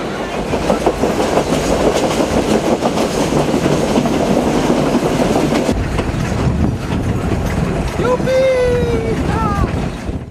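A passenger train runs along the rails toward the Amazon jungle in Bolivia, giving a steady loud rumble with rhythmic clickety-clack, then brief high wheel squeals near the end.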